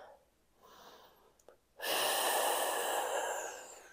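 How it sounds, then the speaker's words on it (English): One deep breath drawn during a slow, gentle Pilates stretch: a quiet airy stretch first, then a long, loud, close breath lasting about two seconds before it tapers off. "Take a nice big deep breath."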